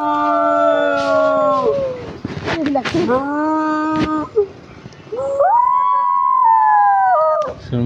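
A dog howls close by in long, drawn-out wails that rise and fall, broken by short yelps and whines, with a brief pause before a final sustained howl.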